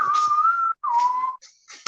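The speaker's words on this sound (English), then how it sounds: "I whistled "Toxic" from Britney Spears." A man whistles a few sustained, clear notes of Britney Spears' "Toxic", close and fairly loud, in two long tones separated by a brief breath and followed by shorter fragments.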